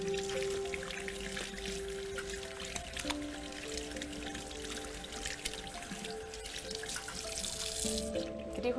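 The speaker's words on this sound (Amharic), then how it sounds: "እጃችንን ጊዜ ወስደን ከታጠብን በኋላ በንጹህ ውሃ እንዲነለቃለቅ" Hands are rinsed under a running tap during handwashing against coronavirus: a steady splashing water flow runs throughout, mixed with sustained background music tones.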